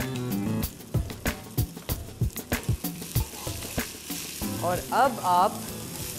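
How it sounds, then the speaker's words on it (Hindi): Chopped garlic and onion fry in a pan, a steady sizzle broken by a string of sharp spoon knocks and scrapes against the pan, with someone briefly speaking in Hindi. "चम्मच घुमाएं जब तक सारी प्याज सुनहरी ना हो जाए"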